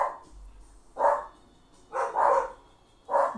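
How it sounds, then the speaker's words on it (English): Two dogs bark at a Lhasa Apso across the street: four separate bursts of barking, moderately loud and a little distant, with quiet gaps between them. "my other two crazy dogs are barking at the cute little Lhasa Apso across the street."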